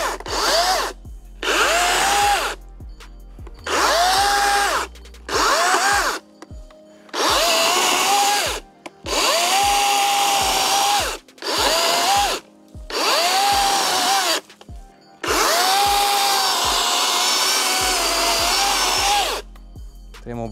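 A DeWalt DCM575 54V FlexVolt cordless chainsaw cuts through wood in repeated bursts, each whining rise of the motor bogging as the chain bites, separated by short pauses, loud and close.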